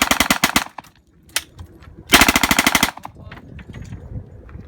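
A machine gun fires several loud, rapid bursts outdoors on a range, short volleys separated by gaps, followed by a longer sustained burst, with scattered echoes and faint handling noises afterward.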